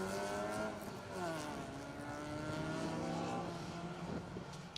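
A newer-shape Honda Civic rally car on a circuit rally stage at SMC Stages, MGJ Engineering Circuit Rally Championship, its engine droning steadily and shifting pitch as it runs at middle distance, with no voices.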